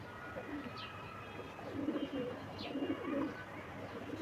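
A female Gola Rampuri highflyer pigeon coos softly and low, with a few faint chirps over a steady background, all fairly quiet.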